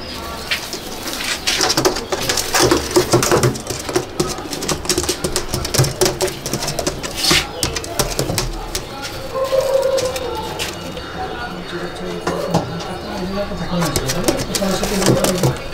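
Andhra pigeons coo repeatedly in a loft in Ichhapur, where a breeding pair is kept. The soft, throaty calls come from close by, mixed with wing flutters and shuffling, while someone talks over them.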